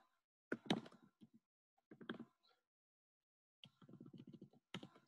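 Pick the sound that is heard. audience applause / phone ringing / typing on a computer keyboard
typing on a computer keyboard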